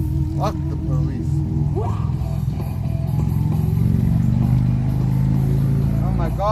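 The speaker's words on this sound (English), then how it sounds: "Oh my god, motorcycle dude" A motorcycle revs loudly as it passes nearby on a street at night, its engine roar rising and falling in a continuous drone with a brief clatter, running steadily throughout.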